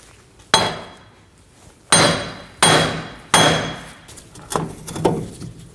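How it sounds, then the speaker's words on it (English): A hammer strikes a front wheel hub on a 2015-2024 Ford Edge to break it free from the steering knuckle: about six loud, sharp metallic blows at irregular intervals, each ringing briefly before the next. "Now I'm going to strike either side of the hub with a hammer"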